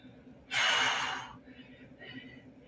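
A single sharp, forceful breath, close and loud, is taken during a vibration platform cardio workout, followed by a softer breath over a low background hum.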